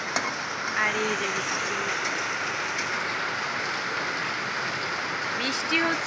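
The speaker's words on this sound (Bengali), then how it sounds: "বৃষ্টি হচ্ছে" Rain falling steadily outside a home while cooking goes on, a continuous even hiss with faint patter throughout, with a few brief faint background sounds.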